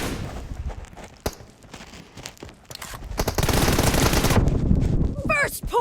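Video game gunfire, with bursts of automatic shots and a sustained stretch of rapid fire, loud and close, mixed with other game sounds.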